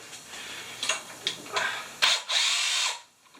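Power tool driving a socket to remove small 1/4-inch bolts during a cam swap on a Chevelle big-block engine, heard close as several short whirring bursts followed by one longer spin that winds down.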